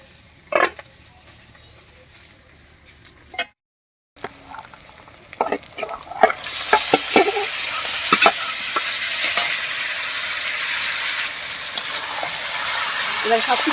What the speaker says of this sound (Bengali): এবার এর মধ্যে মেখে রাখা মাংসটা দেবো